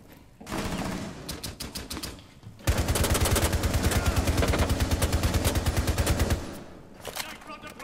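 Rapid automatic gunfire in a video game shooter, with bursts of repeated shots building into a long, loud continuous volley before tapering off into scattered shots.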